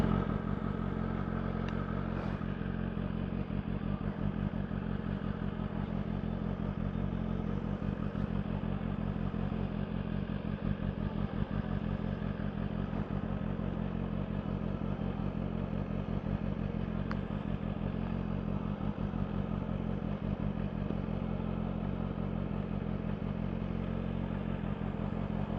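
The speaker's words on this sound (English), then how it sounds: "We have a couple of dirt bikes." Dirt bike engines idle in a steady, low rumble that stays constant for the whole stretch. Faint clatter sits on top, with no clear revs and no talk.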